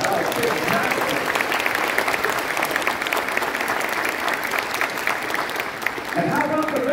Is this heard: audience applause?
yes